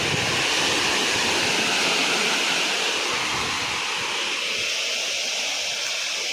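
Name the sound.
farm water pump motor running, water flowing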